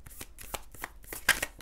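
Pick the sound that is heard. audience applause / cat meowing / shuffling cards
shuffling cards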